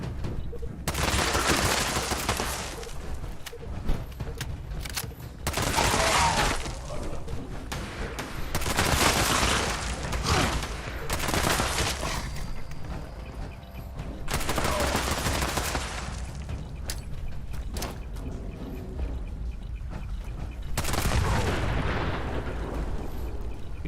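Fallout 76 gameplay is filled with dense, sustained gunfire and explosions, continuous loud bursts of shots layered over one another throughout, with occasional faint talk underneath.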